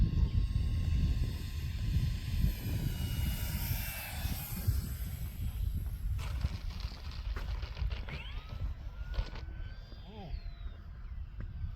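An FMS P-40 Warhawk Flying Tigers 1.4 m RC model airplane makes a touch and go on its moonlit maiden flight, its electric motor droning loud and close before dropping in pitch and fading, with a few faint higher whines after.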